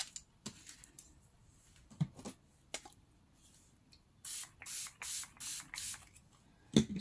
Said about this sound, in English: Spray a little bit of water.